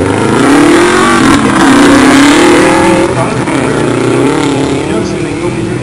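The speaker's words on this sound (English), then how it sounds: "That is a super production vehicle." Rally car at a stage start of the Oregon Trail Rally, loud engine note rising and holding steady as it accelerates, with crowd chatter and commentary underneath throughout.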